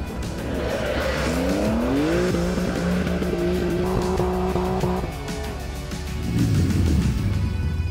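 A Porsche 911 Dakar makes a rally launch with wheel spin: the engine revs climb in rising tones with tires scrabbling, easing off briefly before a renewed surge of revs and loose spinning grip.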